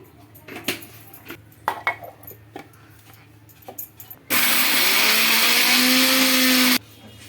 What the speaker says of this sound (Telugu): ఎండుమిర్చి అయితే మిక్సీకి అయితే వేసుకుంటున్నాను